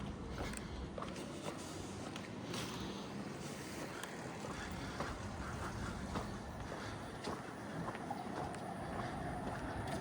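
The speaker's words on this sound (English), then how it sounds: "Train coming." A Yamanote Line train on Tokyo's loop railway draws near with a low, even rumble and rolling noise that holds steady for about ten seconds, faint and distant, with no clear voices.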